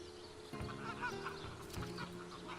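Faint clucking and honking fowl calls from video game chickens blend together over a steady low background hum, distant and quiet throughout.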